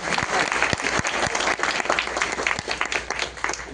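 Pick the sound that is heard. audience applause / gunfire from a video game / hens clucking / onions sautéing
audience applause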